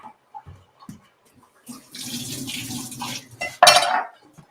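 A lime rinsed under a running kitchen tap, water splashing briefly against a sink with a clink of dishes, ending in a louder close gush before stopping.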